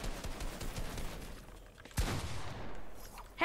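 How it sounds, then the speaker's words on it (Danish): Video game gunfire in a box PvP match, heard as a fusillade of fairly faint distant shots with one sharper burst partway through. "Hey, hvorfor skyder du mig?"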